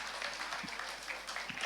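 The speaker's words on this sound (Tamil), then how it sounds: "மிக அழகாக ஆடின நம்ம ஆசிரியர்களுக்கு இன்னொரு முறை பலத்த கரகோஷங்களை கொடுத்துடலாமா?" Audience applauding teachers after their dance at a children's VBS program, a steady, moderately distant wash of clapping with a few faint low thumps, fairly quiet throughout.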